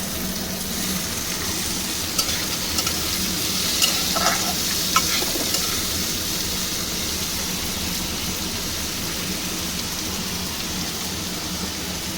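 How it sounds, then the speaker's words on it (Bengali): Potato and onion frying together in a pan, a steady, close sizzle that runs evenly throughout, with faint scraping from stirring now and then and no talking. "আলুটাও একটু এর সঙ্গে পেঁয়াজের সঙ্গে ভেজে নেব"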